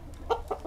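Chickens being fed a mixed corn feed at a household in Bali, with three short clucks in quick succession, fairly close over a quiet background.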